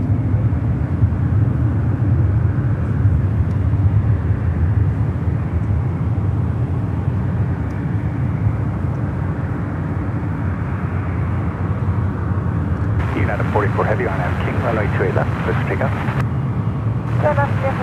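A jet airliner departing San Francisco International Airport, a loud continuous low engine roar that rumbles steadily throughout, joined near the end by a brief garbled burst of radio chatter over the noise.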